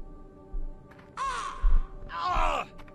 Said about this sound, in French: c'est bien les oiseaux qui m'attaquent.